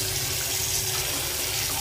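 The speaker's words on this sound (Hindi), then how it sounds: "पानी चालू है अभी" Water runs steadily from a tap into a basin beside a diverter being repaired, a constant close hiss and splash with no talking.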